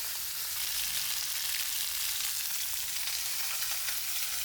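Sardine pieces frying in a pan give a dense, continuous hiss of spitting oil, close and even throughout with no voices.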